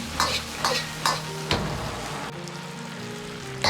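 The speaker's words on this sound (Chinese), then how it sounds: "接着倒入空干卤的肉丁，翻炒均匀。" A wok of drained diced pork for sweet-and-sour cherry pork is stir-fried in sauce, with a few rhythmic spatula scrapes over a steady close sizzle that continues alone.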